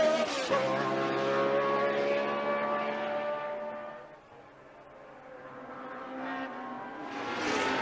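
Formula 1 race cars from the early-1980s era roar past on track, a loud sustained engine whine with harmonic tones that fade and dip around the middle before rising again as more cars approach.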